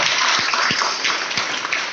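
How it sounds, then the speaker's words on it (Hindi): Loud applause from an audience seated in a hall at a business success event in Bihar Sharif, dense steady clapping filling the whole short stretch without a break. "इनके लिए एक जोरदार ताली हो जाए"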